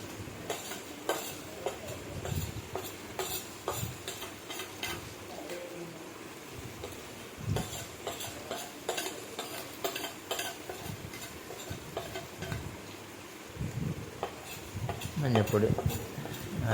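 A spoon scrapes and clinks around a pan as tomato masala with coriander, chili and turmeric powders is stirred, a soft irregular sizzle and scraping under a steady rhythm, with brief louder clatters near the end.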